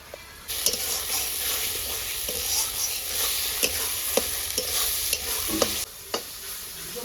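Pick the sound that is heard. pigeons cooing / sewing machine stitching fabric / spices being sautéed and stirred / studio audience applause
spices being sautéed and stirred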